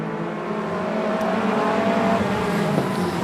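Stock car engines roar at a 2021 Border Stock Car Association regional meeting as cars race past on the track, a loud sustained rumble with a rising drone and no pause.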